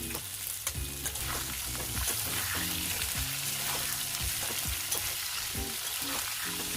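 Soaked chickpeas tossed into potatoes frying in a pan give a steady, close sizzle with repeated scraping and stirring knocks of a utensil against the pan, no voices.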